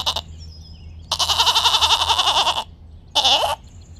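A goat bleats twice, loud and close, with a long quavering cry followed by a shorter one, in a children's alphabet phonics song.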